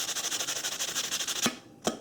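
A sanding block scrubs dust and dirt off an electrical contact during horn relay testing, fast rhythmic back-and-forth rasping strokes, close and steady, ending with a couple of sharp knocks.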